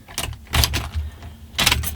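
Car keys jangle as they are picked up before starting a manual-transmission car, a few short metallic rattles in quick bursts, close by and alone.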